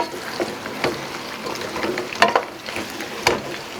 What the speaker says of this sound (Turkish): Soğanlarımızı ekliyoruz. Soğanlarımızın hepsini ekledik. Karamelize olana kadar güzelce kavuracağız.